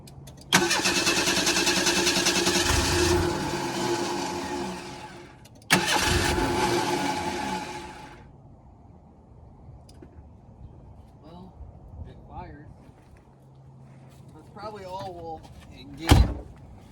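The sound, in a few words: car engine cranking and firing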